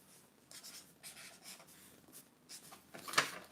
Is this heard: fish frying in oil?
no